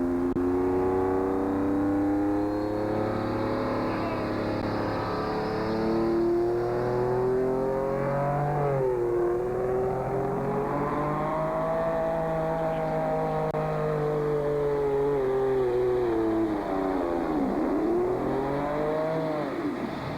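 A tractor pulling vehicle powered by a twin-turbo 2,000-cubic-inch Detroit B12 engine roars steadily and loudly throughout, its pitch climbing and dipping as the engine labors and revs under load.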